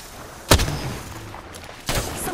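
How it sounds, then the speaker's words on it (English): Two loud, sharp gunshots crack about a second and a half apart in Apex Legends, over a steady hum of background game ambience. "Some drunk is shooting at me."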